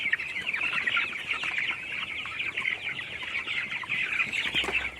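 Flock of farm chickens crowding in to eat feed as it is thrown down, with continuous busy clucking and squawking as they squabble, close and fairly loud, with scattered scuffling underneath.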